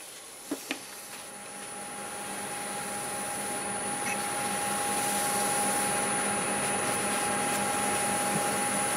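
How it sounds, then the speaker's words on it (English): A wood-turned yoyo spins on a lathe during polishing, giving a steady whirring motor drone with a thin high whine that slowly swells in loudness, preceded by a couple of brief clicks. "Shall I give it a little polishing?"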